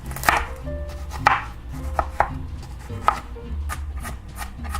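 A knife chops onion on a cutting board in a handful of distinct, fairly close thuds, roughly one per second, with soft scraping between strikes and no voices.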